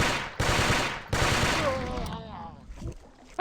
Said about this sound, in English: I better use the burst rifle here